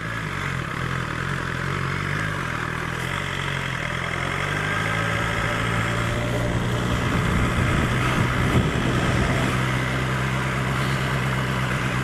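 A 2020 BMW S1000XR motorcycle engine hums steadily during a ride, a constant loud drone with low rumble and wind noise throughout.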